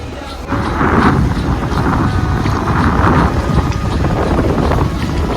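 Strong wind roars and buffets continuously at sea during traditional dol net fishing from a boat, with churning water and waves rushing throughout, no voices.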